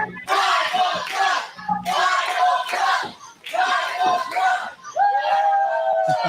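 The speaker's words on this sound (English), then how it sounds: "You hear the crowd solidly behind the Bible Club." A crowd at an indoor wrestling event cheers and chants in rhythmic bursts with short pauses between them, loud and close.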